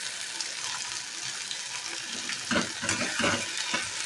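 Spice paste with chilli powder for chicken biryani sizzles and fries in a pan, close and steady. Scraping stir strokes grow busier and louder in the second half.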